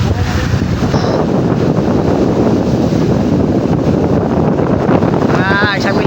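Strong wind buffets a small boat at sea while waves slap and wash against the hull, a loud continuous roar with gusty bursts close to the microphone.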